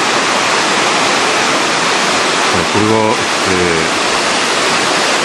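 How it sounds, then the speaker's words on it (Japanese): Shirahige waterfall in Biei, Hokkaido, a steady loud roar of rushing white water filling the scene, with someone briefly speaking over it midway. "白髭の滝前景ですね。"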